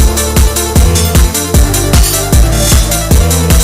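A loud drum and bass beat with a sustained pad and the full drum kit in: punchy kicks and snares in a fast, driving pattern over a thick, constant synth bed.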